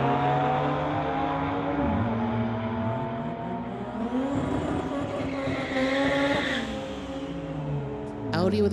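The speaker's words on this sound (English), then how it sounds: "Audi in the Lordco lane going against Vinny in his 2020 Infinity." A street-legal drag race pits an Audi against a 2020 Infiniti, with loud, sustained engine roar that climbs through gear changes over several seconds and a brief tire screech near the end.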